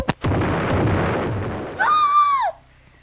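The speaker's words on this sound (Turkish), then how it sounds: "E bu arada üstüne bomba patla." A bomb explodes in a video game: a loud, broad blast rumbles for about a second and a half, then a rising and falling tonal whine follows before it cuts off.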